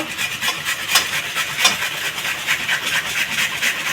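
Capsicum is rubbed by hand against a grater in a home kitchen, giving a close, steady rasping scrape that repeats in quick, even strokes with no voices.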